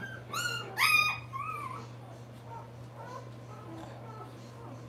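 Newborn puppies whimper and yip close by, a burst of loud, high cries at first fading to softer intermittent whines over a steady low hum.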